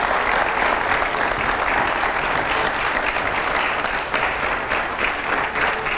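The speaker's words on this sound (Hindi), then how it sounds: "मैं चाहूँगा ज़रा ज़ोरदार तालियां हो पहले हमारे रैपिड फायर राउंड के लिए।" Loud, sustained applause from a studio audience fills the air at a Hindi TV interview show ahead of a rapid fire round, a dense steady wash of clapping with no pauses.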